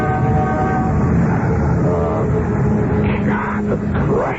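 Rumbling train ride on a rickety railway, a dense steady clatter and roar that fills the whole stretch, with a few rising whistle-like squeals near the end.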